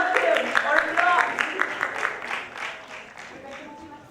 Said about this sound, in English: Let's give her a warm round of welcome or applause.